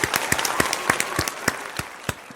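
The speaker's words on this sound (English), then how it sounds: "I want to give a round of applause for the T1D community." A small group claps in a brief, uneven round of applause during a casual conversation about the type 1 diabetes community; the claps are distinct and sparse, close and moderately loud, with no one speaking.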